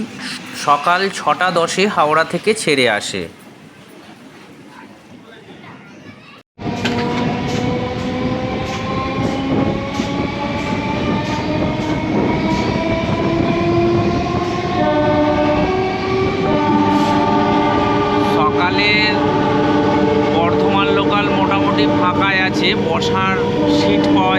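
A Bardhaman local train rolls into the station with a loud, sustained rumble and screeching tonal wheel squeal, and a horn sounds. Crows call and voices chatter briefly near the start before the train noise takes over.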